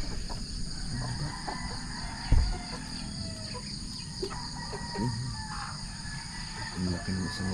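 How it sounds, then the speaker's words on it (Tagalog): Backyard chickens, including a big hen, coming down from their roost outdoors at dawn, with soft intermittent clucks and a possible distant crow over a steady chorus of crickets and insects, with one brief thump midway. "bumaba na yung aming mga manok"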